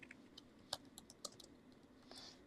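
Scattered clicks of typing on a computer keyboard during an online craps session, a handful of faint, irregular keystrokes over a low steady hum, with no talking.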